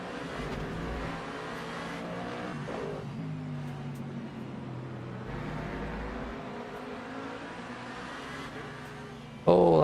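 A BMW race car engine at an endurance race drones steadily at high revs, with a louder roaring burst right at the end and faint talk underneath.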